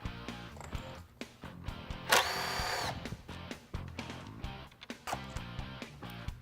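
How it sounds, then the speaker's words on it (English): A T25 driver backs four screws out of the starter housing on a high-speed saw, giving a run of sharp ticking clicks and ratcheting taps with a brief harsher rasp midway, close and alone with no talk. "we'll remove 4 screws with our T25 driver."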